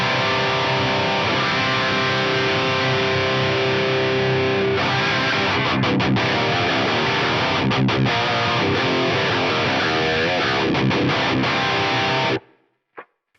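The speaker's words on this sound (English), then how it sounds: "a straight up kind of room reverb with the time at around, half a second" Sustained distorted electric guitar chords ring out through a BOSS GT-1000 room reverb of about half a second, playing steadily before stopping abruptly into silence.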